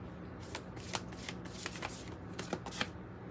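A small tarot card deck is shuffled by hand in quick riffling bursts, close but quiet, with no talking.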